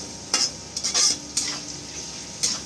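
Mixed vegetables, including beans, stir-fried for veg chowmein, with a steady close sizzle broken by several scraping strokes of a spatula against the pan over a few seconds, with no voices.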